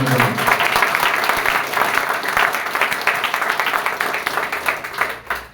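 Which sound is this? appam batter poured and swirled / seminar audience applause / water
seminar audience applause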